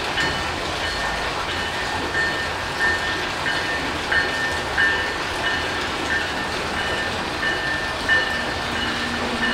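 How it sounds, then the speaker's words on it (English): Metra Electric commuter train pulling into Homewood Station in Illinois, a steady loud rumble and hiss of wheels on rail with faint rhythmic clicking, heard close by with no talk. "Metra Electric coming into Homewood Station"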